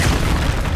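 A Confringo spell blast in the Hogwarts Legacy video game, heard as a dense, loud booming rumble that fills the whole brief moment without a break.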